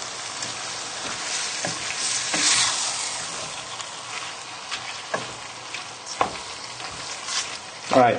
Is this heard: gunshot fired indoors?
no